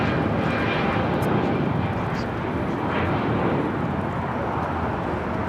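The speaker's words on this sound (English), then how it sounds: "the second Dreamliner coming in from Papeete" A Boeing 787 Dreamliner airliner arrives at LAX with a loud, continuous broadband jet engine roar that stays steady throughout and sounds close.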